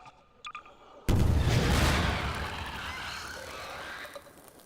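A loud explosion in the video game Garry's Mod bursts suddenly after a brief quiet patch and rumbles out with a long, broad, slowly fading roar.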